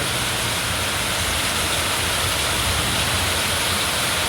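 A dense, steady roar of heavy rain pours down continuously at the seaside in Bang Khun Thian, loud and unbroken, with no voices.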